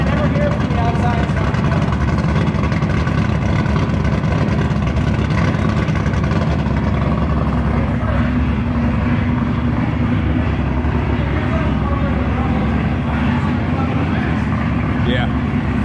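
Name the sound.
LS-swapped Nissan 350z drift car exhaust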